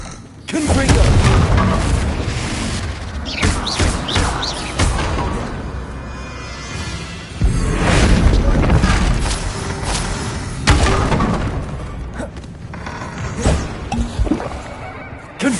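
Confringo explosive spells fired in Hogwarts Legacy, giving a run of loud booming blasts and thuds with creaking, mechanical rumble between them.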